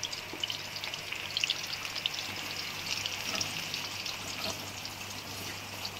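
Kebabs frying in a pan give off a steady, close sizzle that runs unbroken with faint crackles and no voices.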